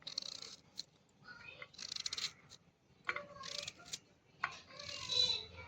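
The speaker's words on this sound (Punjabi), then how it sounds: "ਹੁਣ ਆਪਾਂ ਇਹਨੂੰ ਮੱਗੇ ਦੇ ਵਿੱਚ ਕੱਟ ਲੈਨੇ ਆ" Raw mango is cut into thin slices with a knife, producing a series of crisp, close slicing and scraping strokes in irregular bursts separated by short pauses, with no talking.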